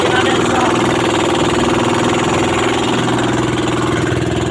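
A single diesel engine on a fishing boat runs at a steady idle, a loud continuous rumble with a regular throbbing pulse that stays close and unchanging throughout.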